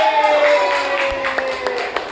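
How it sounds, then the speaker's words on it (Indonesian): A classroom of pupils claps in appreciation after a group presents its answer, a brief burst of scattered hand claps with voices mixed in. "Kalau betul tepuk tangan Bang sebagai bentuk apresiasi."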